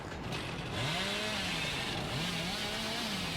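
The Hillbilly's chainsaw in a horror video game revs with a wavering, rising and falling engine drone, steady and moderately loud with no talk over it.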